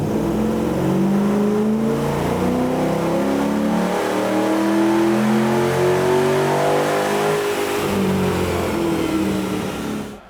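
A Holden Commodore engine revs hard on a dyno at a racing workshop, a loud, sustained mechanical roar that climbs and falls in pitch through repeated throttle sweeps, close and continuous with no talking.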